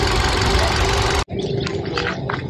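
Hyundai Venue's 1.2-litre four-cylinder engine idling, a steady, fairly noisy mechanical drone that is cut abruptly partway, then continues more muffled with faint background noises.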